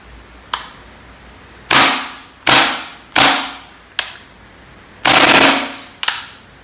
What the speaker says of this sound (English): It's got a really resounding clack noise that is unlike a lot of the much larger gas blowback systems